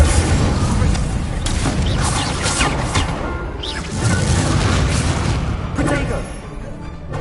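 The Incendio fire spell cast in the Hogwarts Legacy video game: loud whooshing bursts and crackling blasts amid busy combat noise, with booming impacts recurring through the scene.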